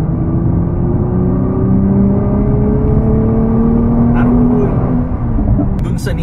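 A 2024 Nissan GT-R in R mode accelerates hard from a launch, a loud continuous engine drone whose rising tones climb steadily across the whole stretch, heard from inside the car with no pauses.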